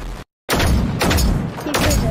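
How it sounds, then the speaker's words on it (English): Pistol shots in the video game Generation Zero, a few loud booming reports with a sudden dropout of silence between bursts, heard up close with game noise and possible voices mixed in. "Shoot it with your pistol"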